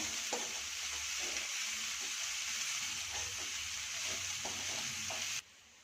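Veg momo filling of sautéed vegetables with pepper stirred in a hot pan: steady sizzling with a spoon scraping and knocking at intervals, close and even, cutting off abruptly near the end.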